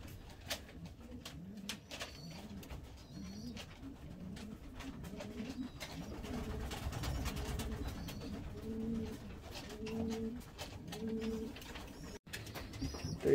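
Young pigeons coo repeatedly inside a family loft, soft rolling calls rising and falling one after another over a steady low background, fairly close and continuous with no talking.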